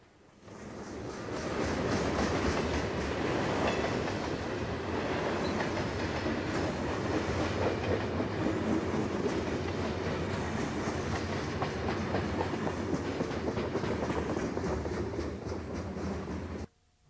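A southbound Union Pacific hotshot freight train from Chicago pulling out and rolling past close by in 1995, with a long, steady roar of wheels and rhythmic clickety-clack that swells in quickly and holds for over fifteen seconds.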